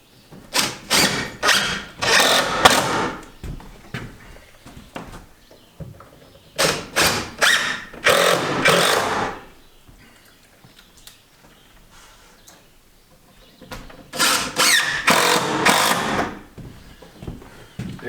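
Simpson Strong-Tie structural deck screws are driven into wood while a main electrical panel is mounted, with three separate bursts of loud, close whirring and grinding from the driver and quiet pauses between them.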